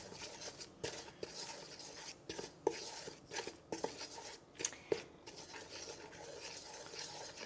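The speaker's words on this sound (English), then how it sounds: "So I just want to stir that together" Dry ingredients being stirred together in a bowl for vegan blueberry lemon muffins: two flours, baking soda, baking powder and salt, giving soft repeated scraping and rubbing with a few light taps of the utensil against the bowl.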